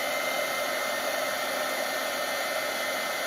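A craft heat tool gives a steady, loud blowing whoosh like a hairdryer, running continuously without change.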